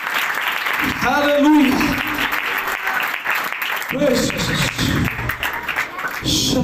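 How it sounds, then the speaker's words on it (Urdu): A church congregation applauds during an Urdu sermon on the crucifixion of Jesus, a sustained burst of clapping mixed with a preacher's loud voice and shouted responses. "زور دی ذرا تالیاں بجاؤ"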